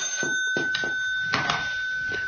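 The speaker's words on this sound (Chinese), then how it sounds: "电话啊" A telephone rings in a Cantonese radio drama, repeated bell-like bursts at a steady pace, fairly close and clear, with no voices over it.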